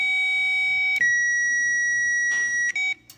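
A loud, steady electronic buzzer tone drones close by on a Harley-Davidson motorcycle with a fried ECU and wiring loom, dropping pitch briefly and then cutting out with a few short bursts near the end.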